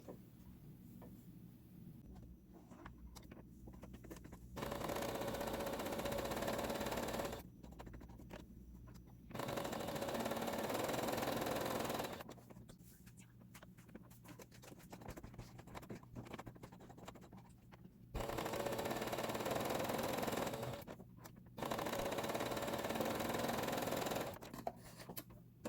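A sewing machine stitches fabric triangles for bunting, running in four fast, steady rattling bursts of a few seconds each, separated by quieter pauses with faint handling sounds.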